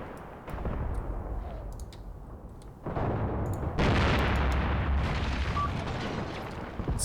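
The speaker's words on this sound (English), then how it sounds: "It's possible that that's an enemy anti-tank gun trying to shoot at my Panzer II. Or is it artillery? No, it's artillery." Artillery explodes near a Panzer II tank in a World War II video game, a continuous rumbling barrage with deep booms that swell louder partway through, plus scattered sharper cracks, and no talk.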